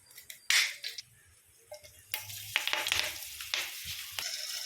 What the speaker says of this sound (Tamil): இது கருவேப்பிலை பொரிஞ்சு வந்தாலும்